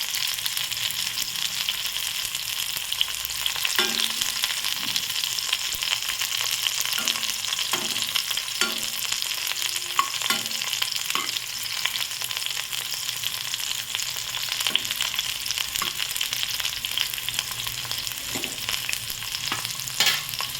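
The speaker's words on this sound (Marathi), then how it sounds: "आता याला थोडंसं हलकंसं गॅसवर आपण लालसर रंग येईपर्यंत फ्राय करून घेणार आहोत." Bitter gourd frying lightly in a pan over a gas flame until reddish, a steady close sizzle with scattered scrapes and clicks of stirring, no voices.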